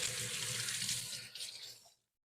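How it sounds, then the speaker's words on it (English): Water runs steadily from a kitchen tap into a sink during handwashing, a close, even hiss that continues for about two seconds before cutting off abruptly. "Let me just wash my hands for touching that."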